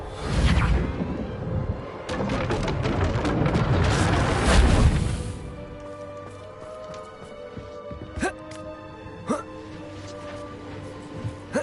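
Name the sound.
Reparo repair spell being cast in video game Hogwarts Legacy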